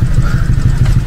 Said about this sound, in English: my car has come.